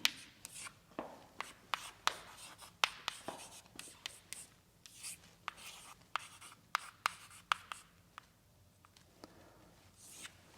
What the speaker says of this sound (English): So let's now write this completely out.